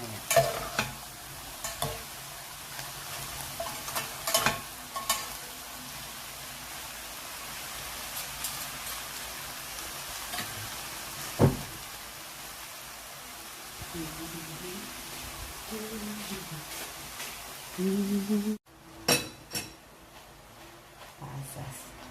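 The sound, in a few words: frying bangus relleno filling in a pan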